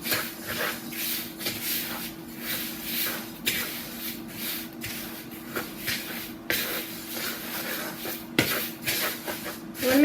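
A spoon scrapes and stirs a popcorn chicken mixture in a bowl, with repeated soft clinks and shuffling strokes at close range and an irregular rhythm.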